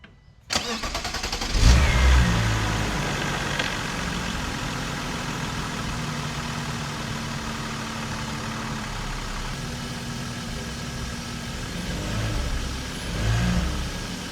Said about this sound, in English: now that I let the engine run a little bit